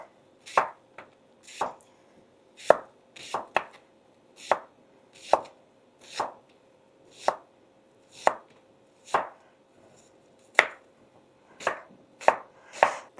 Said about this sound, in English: I just chopped the ends off the onion, cut them in half, and now I'm just going to do slices